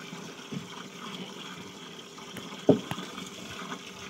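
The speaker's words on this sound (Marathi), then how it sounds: "आपलं पाणी पण चालू आहे" Water runs quietly into a farm tank while fertilizer is mixed and stirred, beside a well with a pump motor. A faint, steady trickle is broken by a few small splashes and knocks.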